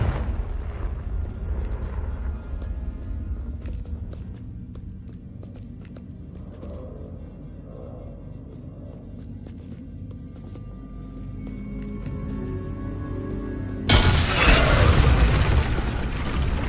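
A Confringo fire spell detonating in Hogwarts Legacy: a low rumbling boom rolls under ambient game sounds, and near the end a sudden loud, broadband blast erupts and sustains.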